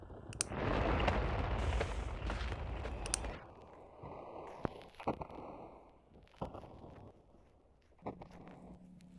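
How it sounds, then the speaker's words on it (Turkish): A loud, long rumbling blast of nuclear bomb explosions in a video game dominates the first few seconds, then fades into scattered thuds, clicks and quieter game noises. "iki tane nükleer patladı."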